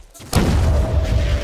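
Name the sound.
rocket explosion in Half-Life 2 Deathmatch video game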